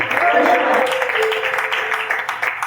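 A church congregation claps in praise to the Lord during a Spanish sermon, a loud, close patter of hands running throughout while voices call out over it.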